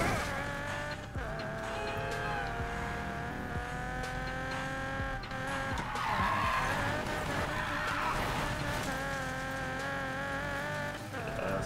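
A car drifting in the Need for Speed Payback video game, steady engine drone with sliding tire squeal running underneath, moderately loud and continuous, no talk.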